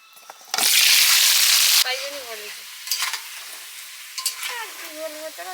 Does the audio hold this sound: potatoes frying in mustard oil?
yes